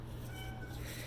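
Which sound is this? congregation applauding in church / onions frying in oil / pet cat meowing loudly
pet cat meowing loudly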